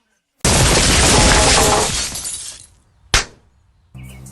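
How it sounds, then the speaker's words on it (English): A flagpole crashing down onto a cartoon school building in The Simpsons: a sudden loud smash of shattering glass and debris that rumbles and fades, followed by a second sharp crash, then brief music. "the school is destroyed anyway once the flagpole falls on it"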